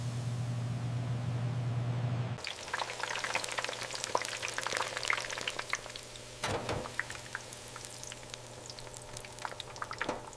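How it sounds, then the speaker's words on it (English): Hot oil crackles and sizzles continuously as chicken cooks in a commercial pressure fryer, with scattered pops, following a brief low mechanical hum at the start. "Our signature chicken is pressure cooked."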